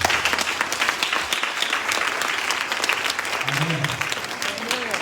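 Church congregation at a night vigil loudly cheering and applauding for Jesus Christ, a dense sustained wave of clapping and crowd noise filling the space, with a voice rising briefly near the end.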